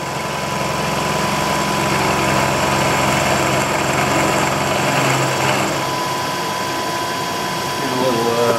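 A milling machine takes a light cut off a metal surface, giving a loud, steady motor whine with layered tones that shift pitch slightly partway through.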